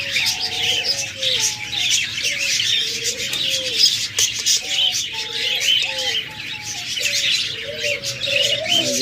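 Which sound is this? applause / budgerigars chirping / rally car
budgerigars chirping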